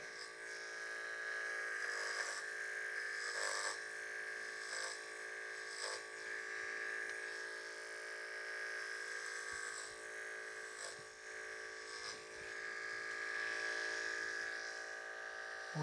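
Electric hair clippers with a 1/2 inch blade buzz steadily while cutting a fade, a quiet, constant hum broken by brief louder bursts and scrapes as the blade passes through the hair.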